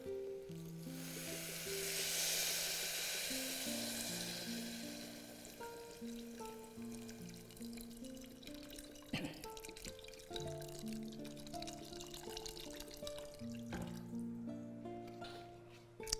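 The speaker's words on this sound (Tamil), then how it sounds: "நம்ம இங்கே இதில் பச்சை தண்ணியும் ஊற்ற போகிறோம்" Plain water pours into a pot of jackfruit seed biryani, giving a hissing, splashing rush at first that settles into gentle bubbling and dripping, with faint clinks of the pot.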